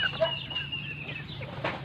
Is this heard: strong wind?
no